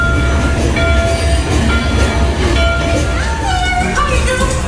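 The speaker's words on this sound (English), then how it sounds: "Want to take a ride on the train?" A Disney park train ride with a steady rumble of rolling wheels and carriage noise, a faint squeal rising near the end, continuous and close with no voices.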